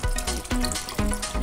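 Freshly gathered herbal leaves, including pandan, are rinsed under a running tap, a steady close splash of water broken by repeated sharp bursts as the leaves are handled, with no talking.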